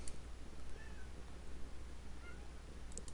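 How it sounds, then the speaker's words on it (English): A cat meows twice, faint and somewhat distant, under a steady low hum of room noise. "Maybe you can hear the cat meowing there."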